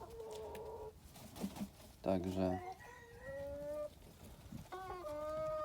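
Ornamental hens and roosters cluck and call nearby in short bursts, while someone talks over them.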